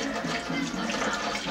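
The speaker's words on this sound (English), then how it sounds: "Well, there's more water pressure, isn't there? Just turn it up." Water runs steadily from a tap while a dog is rinsed, a brief, continuous splashing hiss at moderate distance.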